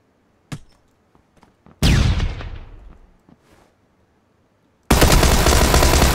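Shotgun blasts in the video game PUBG, two loud booming shots a few seconds apart, the first trailing off in a long echoing decay, the second cut off abruptly, with faint clicks before them.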